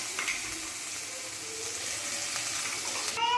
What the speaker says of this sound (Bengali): তেলের মধ্যে এবার দিয়ে দিচ্ছি বেটে আনা মশলাটা।